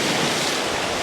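Ocean surf washing in at sunset, a steady broadband rush of waves with wind noise over the microphone, loud and continuous throughout.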